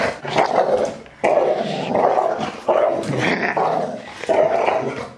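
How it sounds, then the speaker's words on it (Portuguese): A pitbull barks and growls aggressively at close range, several loud rough bursts in a row, with a person's voice mixed in. "Socorro, pitbull tá me atacando!"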